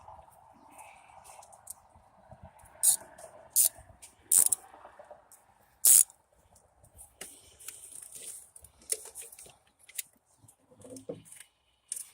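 Parts around the purge valve of a 2007 Chevy HHR are tightened by hand, with scattered sharp metallic clicks and ratcheting bursts separated by quiet gaps, close and fairly loud.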